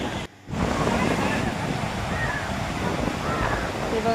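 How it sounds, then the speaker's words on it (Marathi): Water spraying from the waterfall at Bhandardara dam, a steady broadband rushing roar with wind buffeting the microphone throughout, briefly dropping out near the start. "पूर्ण फवारे येत आहेत पाण्याच्या वरतून धबधबा पडत आहे"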